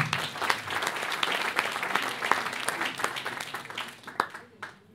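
Steady applause from a crowd, dense clapping that fades out toward the end with a few last claps.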